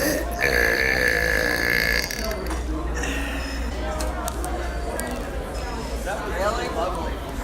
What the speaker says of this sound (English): today I'm going to be going out to some restaurants and doing some burps